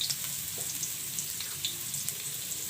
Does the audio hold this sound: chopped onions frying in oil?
yes